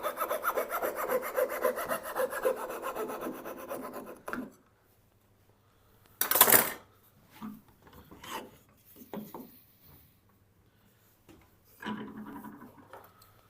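A chisel pares waste from a wooden box joint: a quiet, close, steady scraping cut, then a sharp knock followed by several softer scrapes and taps with pauses between.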